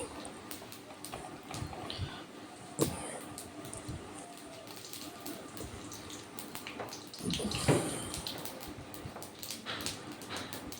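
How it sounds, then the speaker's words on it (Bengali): Whole cumin seeds and a dried red chilli sizzle in a little mustard oil as a tempering for a vegetarian young-jackfruit curry, giving a steady close crackle with sharper pops now and then. "অল্প করে একটু সর্ষের তেল দিয়ে দিলাম এবার এর মধ্যে গোটা জিরে কিছুটা দেব আর একটা শুকনো লঙ্কা ফোড়ন হিসাবে দেব"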